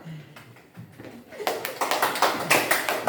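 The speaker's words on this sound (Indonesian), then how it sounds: "Bagus, kasih tepuk tangan." Elementary school class clapping hands in applause for a pupil after a presentation, a burst of sharp, dense claps starting partway through and continuing loudly to the end, with some speech at the start.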